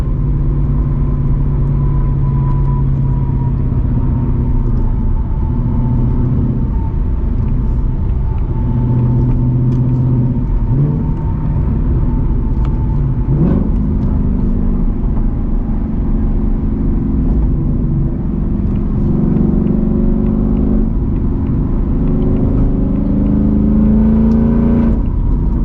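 Ford S650 Mustang GT V8 running loud and steady throughout, a deep rumbling drone with shifting engine tones and a brief rev swell near the middle, no talking.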